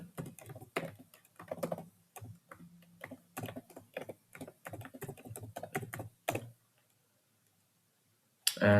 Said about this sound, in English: So let's type in my username